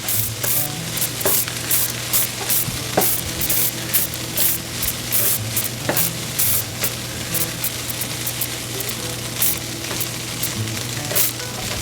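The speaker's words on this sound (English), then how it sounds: "so we can go ahead and pre-cook this" Hot and spicy Spam sizzles steadily in a pan, a close, continuous frying hiss with crackling pops throughout and no talking.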